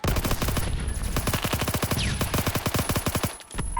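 Rapid automatic gunfire in the Roblox shooter Phantom Forces, loud close bursts of sharp regular shots in a steady rhythm with a brief pause near the end.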